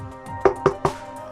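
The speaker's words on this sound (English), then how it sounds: "My fuckbot is actually knocking at my door." Three sharp knocks on a door, evenly spaced and fairly close, standing out against a faint steady background hum with no talking.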